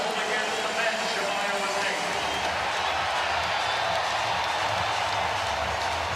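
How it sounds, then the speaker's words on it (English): Basketball arena crowd at a West Virginia home game roaring and applauding after a coach's technical foul, a dense steady wash of cheers and clapping that fills the space loudly throughout. "Crowd loving it."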